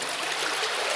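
Water draining through a flooded old mine passage, a steady close rushing and trickling flow that fills the whole second without a break.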